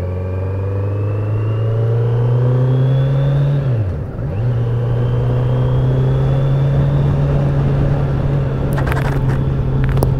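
A 2020 Kawasaki Z900 motorcycle rides along a road with a steady, loud engine drone and wind rush, briefly dipping as it shifts gear near the four-second mark before holding a constant pitch.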